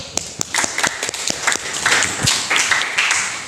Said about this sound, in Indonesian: aplaus untuk Hafiz dulu